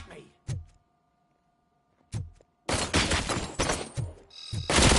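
Gunfire from the video game Robocop Rogue City: a few sharp isolated shots early, then a dense, loud burst of rapid automatic fire with a short gap, sounding close and harsh.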